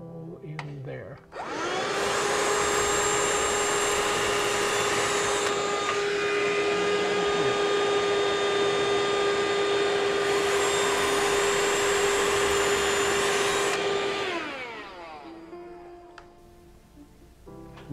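Vacuum pump running during installation of a MrCool mini-split heat pump, starting up with a steady loud whine and drone that holds for about twelve seconds before winding down, with faint talk under it.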